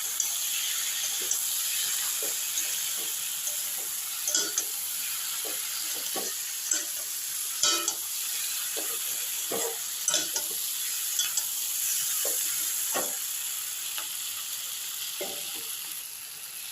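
Egg fritters (bora) sizzling in a pan of oil, a soft continuous fry broken by repeated scraping stirs of a spatula at irregular intervals, close and moderately quiet, without talk.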